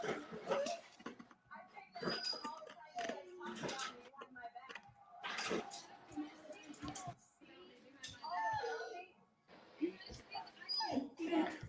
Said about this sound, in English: This dog, boy.